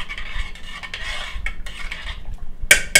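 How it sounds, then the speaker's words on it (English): Food being stirred in a cooking pot for a low-cost vegetarian meal, with soft continuous scraping and churning, then two sharp metallic clinks of a utensil against the pot near the end. "So you give it a little stir as soon as you put them in."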